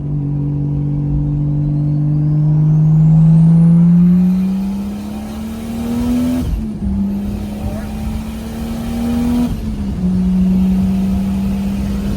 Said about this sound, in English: Let's do a little third gear pull.